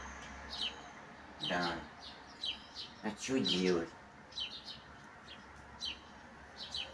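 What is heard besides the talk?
birds chirping outdoors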